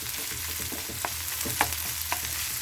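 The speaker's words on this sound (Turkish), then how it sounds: "biraz da böyle biberlerimizin diriliği gidene kadar bunları güzelce kavuralım" Bell peppers sizzle steadily in a hot pan while being stir-fried for Turkish shakshuka, with a continuous close crackle broken by a few sharper pops and stirring scrapes.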